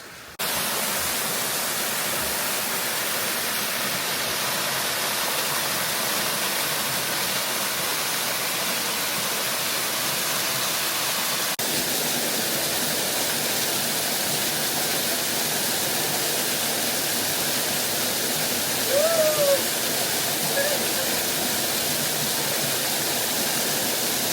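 Steady, loud broadband rush of a stream flowing beside a mountain valley hiking trail leading to a waterfall, continuous and close throughout with no speech.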